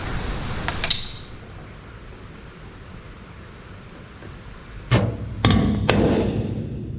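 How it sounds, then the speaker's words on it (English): A hammer striking a center punch against metal in a workshop: one sharp metallic tap near the start, then after a quiet stretch three more close, loud strikes in quick succession. "I'll go ahead and center punch them"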